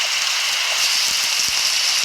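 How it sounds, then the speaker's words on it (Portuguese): Steady broadband hiss of rain falling in the survival video game 99 Nights in the Forest, continuous and even throughout with a few soft low thumps underneath. "Eu odeio chuva nesse jogo."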